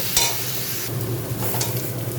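Leafy greens frying in a pan with the water they were steamed in, a close, steady sizzle with stirring scrapes and a low hum underneath, no talking.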